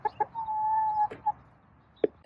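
Backyard chickens cluck nearby, a few short clucks around one drawn-out, steady call, then a sharp single cluck after a brief pause, with no one talking.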